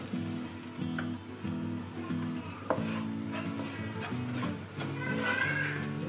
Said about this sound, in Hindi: दो मिनट मसालों पका लेंगे।